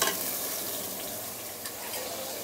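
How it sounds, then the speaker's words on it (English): Fresh ingredients sautéing in hot oil in an open pressure cooker, a continuous close sizzle with a light crackle and occasional stirring scrapes. "So first of all, we are going to saute the ingredient, the fresh ingredient here. Put in some oil."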